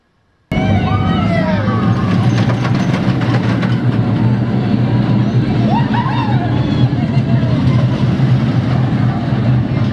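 A rough roller coaster runs along its track with a loud, continuous rumble and rattle, heard close from on board, while a babble of riders' voices sits underneath.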